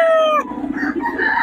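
An 11-month-old stag rooster at a Bocaue gamefowl gathering crows loudly and close by, a single drawn-out call cut short, followed by low clucking and background murmur.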